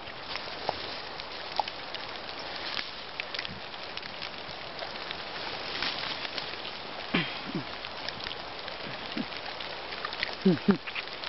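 Soft, steady rain patters outdoors with a diffuse hiss, broken by a few faint rustles and small knocks near the end.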